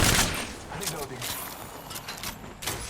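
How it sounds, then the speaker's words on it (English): Gunfire from Apex Legends on PS4 aimed at the player, a burst of sharp shots at the start followed by scattered reports, mixed with game effects and a voice talking over it. "Shots fired at me."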